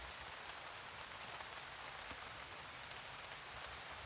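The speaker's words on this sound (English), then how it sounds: "The rain is getting heavier," Rain patters steadily on a forest canopy in woodland, a dense, even hiss of drops that is soft and distant, with no voices over it.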